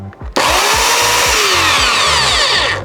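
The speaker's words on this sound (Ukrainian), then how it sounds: "хочу продемонструвати вам швидкий стоп ланцюга при відпусканні кнопки" A Dnipro-M DSE-15T electric chainsaw starts abruptly after a brief low hum, then its chain and motor whine loudly and continuously at close range until the end.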